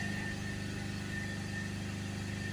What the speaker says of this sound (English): We'll accelerate it up to 3000 RPM.